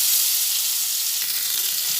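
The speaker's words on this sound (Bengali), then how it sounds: "পটলটা ভেজে নিচ্ছি" Pieces of pointed gourd (potol) fry in hot oil in a pan, a loud, steady, close sizzle that hisses without a break for the whole stretch.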